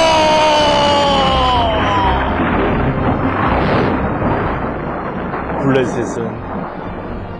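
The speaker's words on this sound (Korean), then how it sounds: "하나님이 보내준 그 천둥소리" A loud, rumbling thunder-like roar mixed with shouting voices, swelling and fading over several seconds.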